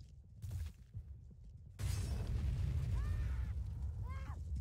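A grenade goes off in the Roblox video game, a sudden heavy blast with a rumbling roar that fills the rest of the moment and covers the faint game sounds heard before it.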